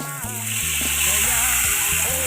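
Beef sautés in a pan at home as the first step of a mung bean stew. The sizzle is steady and close, with a tonal background sound running underneath.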